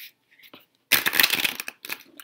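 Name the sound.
shuffling tarot cards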